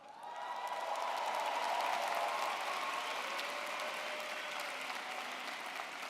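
A large graduation crowd at a university commencement breaks into sustained applause that swells in the first second and holds steady, broad and reverberant, with faint cheering mixed in.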